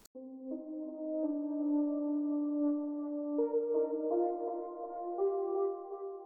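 Vocal chops from the Native Instruments Glaze plugin carry the main melody of an alternative rock song, a soft sustained sequence of sung-like tones that steps through several pitches, moderately loud and alone, with no talking.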